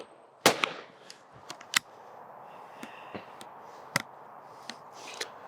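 A side-by-side shotgun fires at a clay target outdoors, one sharp loud report near the start followed by several fainter cracks and clicks spread through the rest of the clip.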